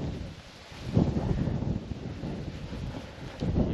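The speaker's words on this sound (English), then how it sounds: "it's a cold wind" Cold wind gusting across an outdoor garden on a stormy day, a steady low rushing roar with buffeting swells and mic-rattling gusts, no talking.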